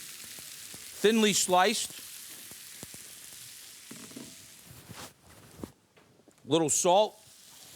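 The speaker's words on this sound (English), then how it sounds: "then we're gonna start sauteing some onions" Thinly sliced onions with a little salt sizzle steadily in a hot pan, a soft continuous frying hiss running under a voice as he talks nearby.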